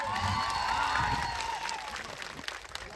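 Rally crowd at Jhankhvav clapping for the police officers, a dense wash of applause and some cheering that stays loud, then thins slightly toward the end.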